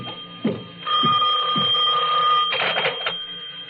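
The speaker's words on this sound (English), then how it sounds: "but my phone was ringing" An old-style telephone bell rings loudly indoors in a sustained metallic trill, stopping and restarting, with a few soft knocks and thumps around it and no talk.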